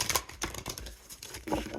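A large deck of playing cards being shuffled, with riffling bursts and soft flutters that come and go in uneven clusters, close up and fairly quiet, with no talking.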